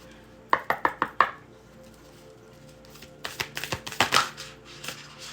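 A deck of self-care oracle cards is shuffled in two rounds. First come several crisp, evenly spaced riffles, then after a pause a quicker, busier run of card flicks, close and fairly quiet.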